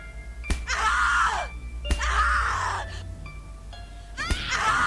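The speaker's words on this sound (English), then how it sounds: "Scream louder, little bitch. Scream your lungs out." Screaming from a horror video game, three long anguished wailing cries separated by sharp thuds, loud and close, with a faint music drone underneath.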